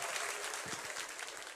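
A church audience bursts into applause, a brief dense wash of many hands clapping at once with no voices.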